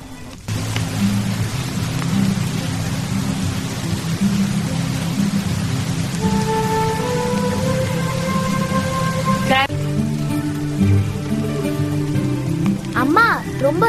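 Steady rain hisses continuously outside a cottage in the mountains, a dense wash of noise that runs the whole time beneath music and low tonal sounds.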